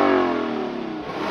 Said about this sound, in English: Can I rev it all the way to redline?